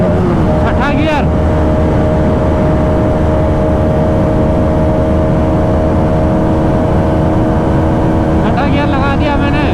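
A motorcycle in sixth gear pulls hard during a performance run, with a loud, continuous engine drone that rises steadily in pitch under heavy wind rush.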